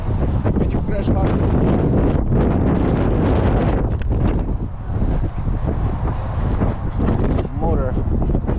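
Strong wind buffets the microphone outdoors on a blustery day at an RC plane flying field, a loud continuous roar with gusty surges and rumble that runs through the whole stretch.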